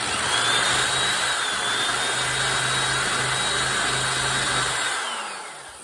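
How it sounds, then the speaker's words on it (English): A drill spins a wire wheel against rusty bicycle crank parts, a loud steady whirring grind held for several seconds before winding down at the end, with no talk. "my old trick with the drill and the wire wheels on that"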